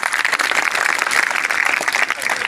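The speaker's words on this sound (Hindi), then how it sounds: "जोरदार इस बालक के लिए ताली।" Students and staff at a government senior secondary school ceremony in Nosariya clap loudly for a topper, producing a dense, continuous burst of applause heard alone.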